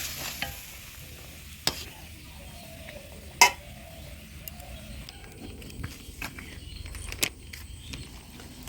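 Moong dal with a little chana dal cooking in a pot in a home kitchen, with soft faint stirring and a low simmer, a few sharp clinks of a spoon against the pot, no talking.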